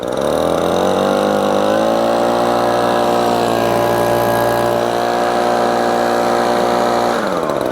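A gas leaf blower engine, either a Husqvarna 125B or an Echo PB-2620, revs up and holds a loud, steady high-pitched drone close by for several seconds before dropping off.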